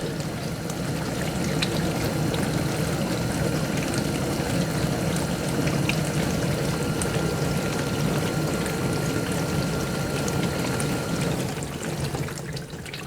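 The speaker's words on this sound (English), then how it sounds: "now it should be doing the drain pump" A GE dishwasher running its drain pump in test mode after installation, a steady rushing, gurgling flow of water with a low motor drone, continuous and fairly loud for the whole stretch before easing slightly at the end, no talking.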